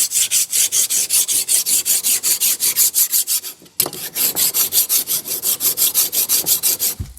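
A new hand plane iron rubbed back and forth on 120-grit abrasive, giving a fast, regular series of close, harsh scraping strokes with a brief pause midway.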